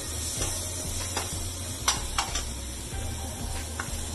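Homemade masala for fish curry frying in a pan makes a close, steady sizzle with soft stirring scrapes and a few sharper clicks of a utensil against the pan, with no talk.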